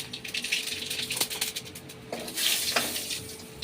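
Mustard seeds and dried red chillies dropped into hot oil in a home kitchen, a steady soft sizzle with crackling bursts and occasional clinks of a spoon against the pan, no talking.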